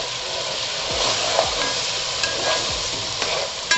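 Onions, ginger-garlic paste and tomatoes sauté in butter in a pan for street-style pav bhaji, giving a constant loud sizzle close by. Occasional stirring scrapes and light clinks of a utensil cut through, with no speech.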